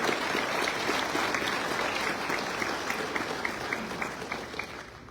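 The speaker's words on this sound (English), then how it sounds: "let's give them a round of applause for the help that they've given you in getting here" Sustained audience applause at a white coat ceremony, steady dense clapping from a large crowd that holds loud throughout and eases slightly toward the end, no voices over it.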